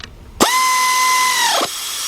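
A power tool tightens a 15mm alternator bolt on a Chevy Impala, giving one steady, close whirring run of just over a second that starts and stops abruptly. No one speaks.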